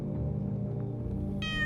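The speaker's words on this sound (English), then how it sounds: "Cat! Oh, you gotta come in," A cat meows once in the video game No, I'm Not a Human, a short high, wavering cry that rises clearly over a low, steady ambient drone near the end.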